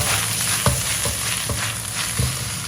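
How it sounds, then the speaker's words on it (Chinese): Napa cabbage stir-fried in a wok, a loud continuous sizzle close by, broken by several evenly spaced scrapes and knocks of the spatula as the cabbage is tossed. "断生以后我们开始调理，首先加一点点的食盐，加一点点黑胡椒粉提味，继续翻炒。"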